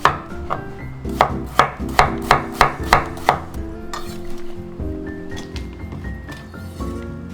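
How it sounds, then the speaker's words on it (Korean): A knife chops through an old yellow cucumber (nogak) on a board, a quick series of about eight crisp, evenly spaced cuts up close, then quieter slicing and scraping with faint kitchen noise. "이것을 썰어서 절여야 돼요"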